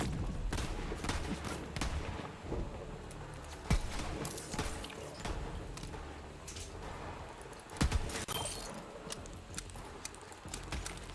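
Gunfire in the shooter game Borderlands 3, with rapid bursts of shots and sharp cracks over a dense, busy battle din and no voices.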